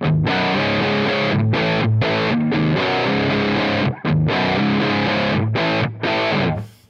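Heavily distorted electric guitar played through a modeled Mesa Boogie Triple Rectifier amp in AmpliTube 5, with sustained chords and riffs broken by short stops and resumptions, loud and alone without voices.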